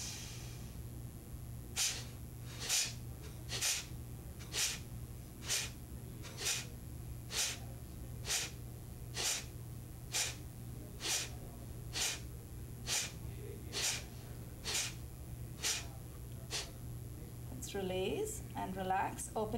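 Rapid, forceful nasal exhalations from a yoga breath-of-fire exercise, about sixteen sharp evenly spaced strokes in a steady rhythm, close and clear over a low hum, ending with a deep breath and a brief voice.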